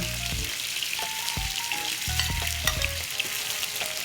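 Food browns in a hot pan with a continuous crackling sizzle, overlaid by intermittent low thumps and brief tonal clinks of kitchen work nearby; no voices.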